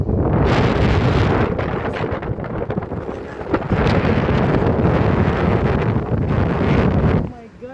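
Strong wind roars and buffets the microphone in heavy continuous gusts, loud and close, cutting off abruptly near the end.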